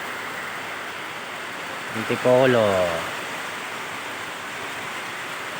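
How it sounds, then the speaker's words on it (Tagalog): Steady rain pours down outdoors at an Antipolo site where a Samsung split-type air conditioner and Tanner fans are being installed, a continuous hiss with a brief voice speaking midway. "Nabutan kami ng ulan dito."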